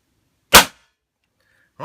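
A CO2-powered gun fires one sharp, loud shot close by, the crack dying away quickly into quiet, followed near the end by the start of a voice.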